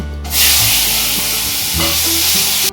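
Chopped tomatoes hit hot oil already seasoned with cumin and a bay leaf, setting off a loud, close, continuous sizzle and hiss that carries on steadily to the end.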